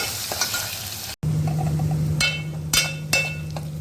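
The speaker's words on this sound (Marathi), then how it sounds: "कांदालाही मी व्यवस्थित परतून घेते" Onions sizzle in a hot pan for kande pohe while a spatula stirs them, giving a steady frying hiss. There is one brief dropout, then a low hum and three sharp scraping strokes of the spatula.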